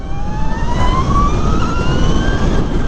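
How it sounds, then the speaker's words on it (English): Energica Eva Ribelle RS electric motorcycle, a 2023 model, ridden on Bay Area roads, its motor giving a rising high whine over heavy wind rush, steady and close. "Liking the sound on this motorcycle too."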